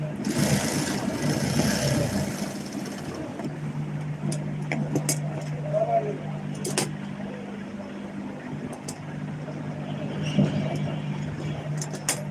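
A sewing machine stitching fabric pieces together, a pocket being sewn during a tailoring lesson: a steady whirring motor hum that runs continuously, with faint clicks and a brief louder burst at the start.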